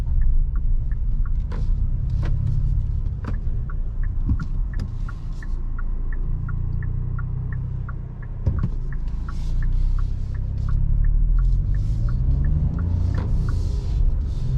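A 2022 Hyundai Bayon with a 1.0 T-GDi 100 hp engine and DCT gearbox pulls away, its low engine rumble and hum rising steadily from inside the cabin, with a regular ticking click running throughout and no talk.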